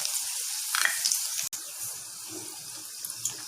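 Cloves, cardamom, star anise and dried chillies sizzle in hot oil for a goat liver fry, a steady close hiss with light crackles and one sharp click partway through.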